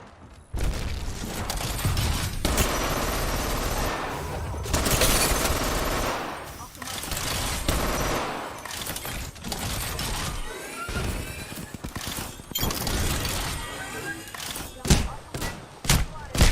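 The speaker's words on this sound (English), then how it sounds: "Opening fire on the enemy." Gunfire in the battle royale game Apex Legends, loud sustained bursts of automatic fire broken by short pauses, with sharp single shots, thuds and mechanical clatter in a busy firefight, under a layer of in-game voice chatter.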